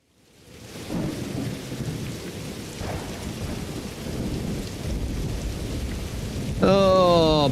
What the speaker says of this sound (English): the rain in here gets insanely loud